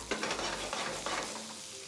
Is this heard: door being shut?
no